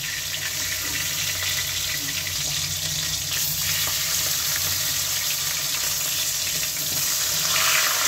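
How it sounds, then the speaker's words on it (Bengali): A katla fish head fries in hot oil with a loud, steady hiss and fine crackle that runs unbroken throughout, swelling slightly near the end. Nobody speaks. "মাছের মাথাটা ছোটো, তাই মাথাটাও ভেজে ঝুলি দিয়ে দেব"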